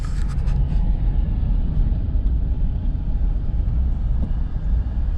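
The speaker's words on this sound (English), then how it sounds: "Old Roscoe driving down the road on his Ferris" A Ferris Z3X zero-turn mower drives down a road, its engine a steady low rumbling drone that stays constant and fairly close throughout, with a few faint higher clicks at the very start and no speech.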